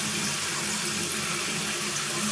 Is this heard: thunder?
no